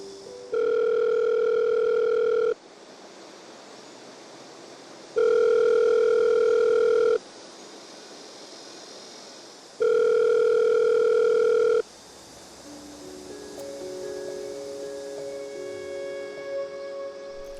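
Telephone ringback tone sounds three times in long, evenly spaced pulses with pauses between, going unanswered, then gives way to faint background noise with a thin tonal trail.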